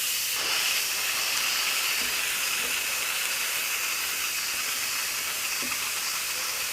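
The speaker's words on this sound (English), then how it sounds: "now we want to do a quick release. So that is basically just turning the venting handle or the steam handle to venting." Steady loud hiss of steam venting from an Instant Pot's handle during quick pressure release, continuous and near throughout with faint clicks.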